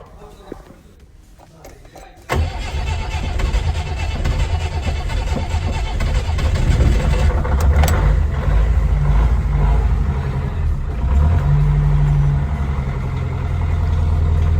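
An old Hindustan Ambassador car engine cranks and fires abruptly after quiet, then settles into a loud, rough, steady idle with a brief rev near the end, close by and without speech.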